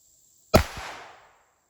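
A single sharp .22 LR gunshot from a Winchester rifle, fired into a meat target outdoors, cracks loudly and then decays over about a second, with no talk around it.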